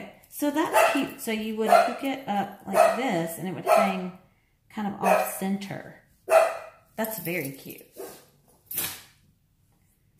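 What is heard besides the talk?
dogs barking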